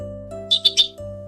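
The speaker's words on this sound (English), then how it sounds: "They chirped." Sparrows give three quick high chirps in a short cluster, clear and close over a soft sustained musical drone.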